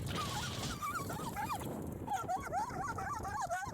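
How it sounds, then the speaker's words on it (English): A dog whimpers and yips in high, wavering whines, broken by a few sharper barks, loud and close over a rumbling background, with the whining returning repeatedly in quick bursts. "That's a dog."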